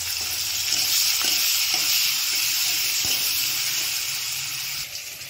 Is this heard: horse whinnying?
no